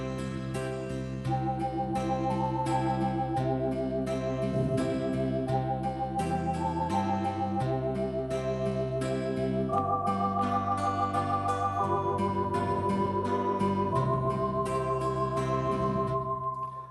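A Zoom EZ10 electronic keyboard plays Silent Night with its automatic rhythm accompaniment switched on, a steady beat and chords under the melody, loud and continuous with no voices.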